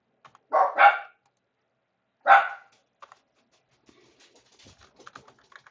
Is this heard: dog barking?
yes